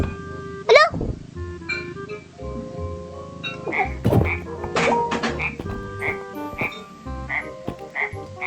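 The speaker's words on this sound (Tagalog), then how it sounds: "Ba't may palaka doon?" A frog croaks in the video game R.E.P.O, a loud close call followed by a run of repeated croaks over a low background hum.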